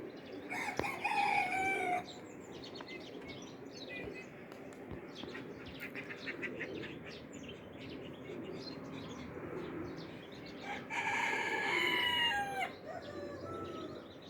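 Poultry cluck and crow at a young flock's rearing site: roosters crow loudly in two bursts, near the start and again toward the end, over continuous clucking and chirping, with a voice talking in between.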